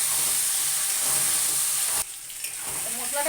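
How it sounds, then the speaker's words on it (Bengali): Spice masala with chopped tomatoes and yogurt sizzles hard in a pan while being stirred, a loud close hiss that drops suddenly partway through and then builds back up. "একটু নাড়িয়ে নেবো"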